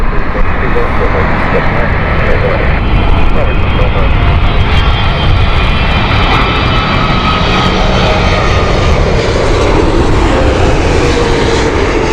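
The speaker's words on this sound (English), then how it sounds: "Turkish cargo inbound next. This is a Boeing 777 here." A Turkish Cargo Boeing 777 landing at Heathrow, its jet engines giving a loud, close, continuous roar that holds steady without any pause.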